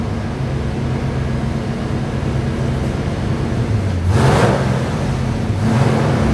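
An ERE-383 engine with a small cam on a dynamometer, pulled up toward 6,400 rpm: a steady, loud mechanical drone that climbs in pitch and swells louder in the final seconds.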